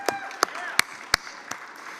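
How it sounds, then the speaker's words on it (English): A handful of sharp, separate claps ring out at a regular pace during an industry meeting, about six in two seconds, with faint murmuring underneath rather than full applause. "So please give yourselves a round of applause."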